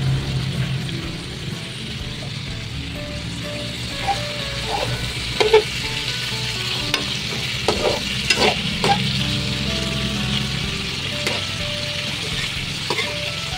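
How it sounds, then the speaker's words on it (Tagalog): Steady sizzling of shrimp (prawns) frying in a pan, with occasional clinks and stirring scrapes over a constant crackling hiss, close by. "dito lang natin yan ilalagay sa gilid nang sa ganun na medyo siya maprito-prito natin yan"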